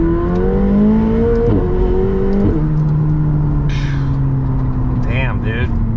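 An 850-horsepower supercar accelerates hard, its loud engine rising in pitch through several sharp gear changes, heard from inside the cabin, with someone talking over it near the end.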